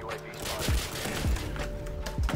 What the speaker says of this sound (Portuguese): Eu tô tomando tiro da onde